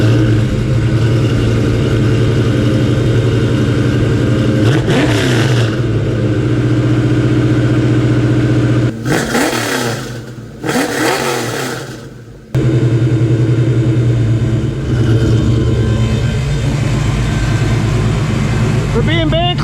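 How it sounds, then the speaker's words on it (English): A car exhaust with an X pipe and reconditioned 1990s Mac mufflers idles with a deep, steady rumble, then revs sharply several times before settling back to idle. The sound is loud and close. "Now it's time to take a listen to that old 1990s sound of those Mac mufflers"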